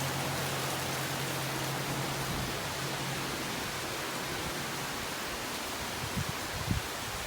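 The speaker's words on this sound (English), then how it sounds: "It's raining sideways." Rain blown sideways by the wind gives a steady, dense hiss of falling water that stays at an even level, with a brief low hum early on and a few small knocks near the end.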